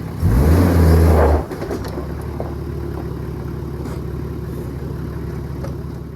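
A 4WD spinning its wheels on dirt during a beach outing at Port Macquarie, its engine revving hard and loud up close for about a second and a half before settling into a steady, lower engine drone.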